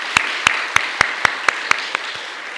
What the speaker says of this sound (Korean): 우리 주님께 감사와 영광의 박수 올려드리겠습니다.